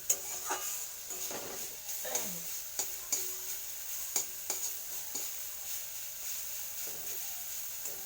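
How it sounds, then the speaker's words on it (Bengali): Ingredients are stirred and fried in a pan, quiet intermittent spatula taps and scrapes landing every second or so over a faint background sizzle. "এটা একটু ভাজা ভাজা করে নেব"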